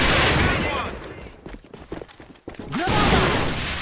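Counter-Strike: Global Offensive firefight, with dense rapid gunfire bursts and a pause of scattered thumps before another heavy volley, loud and close, with a commentator talking over the action.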